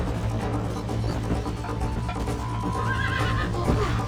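A horse whinnies in the Red Dead Redemption video game, its rising call standing out over a dense, steady bed of game music and background sound.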